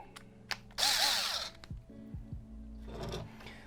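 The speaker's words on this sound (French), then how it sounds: "les bruits de perceuse, je couperai à chaque fois" Electric drill boring pilot holes for a photo box DIY build, a loud close whirring burst of about a second, followed by shorter quieter motor spins and clicks.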